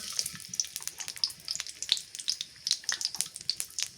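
Garlic frying in soybean oil gives a bright, crackling sizzle, with dense irregular pops and spatters close by, steady for a few seconds with no voices.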